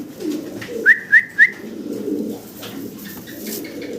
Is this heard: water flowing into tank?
no